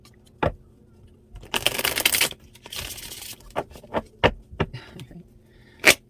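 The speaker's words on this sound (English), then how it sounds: "See what we got going here. One more shuffle." Tarot cards being shuffled by hand at close range, with a couple of quick riffling bursts amid scattered sharp taps and card snaps.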